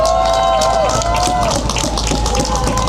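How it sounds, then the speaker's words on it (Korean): Crowd at an outdoor political rally in Yangpyeong clapping and cheering, a dense burst of applause with a steady low hum and tonal sound overhead, loud and continuous throughout. "큰 박수 부탁드리겠습니다."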